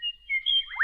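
Small birds give a few clear, high chirps and tweets close by, alone, with a brief rising call at the end.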